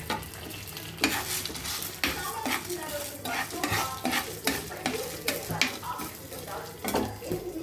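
Spice tempering (popu) frying in a pan for sesame and ginger chutneys: a close, continuous sizzle under busy scraping and stirring of a spoon against the metal pan, with no talk.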